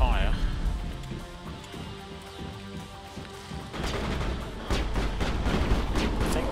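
Gunfire in the video game Mass Effect, with bursts of shots and impacts that grow denser and louder in the second half, mixed under game noise and a voice talking.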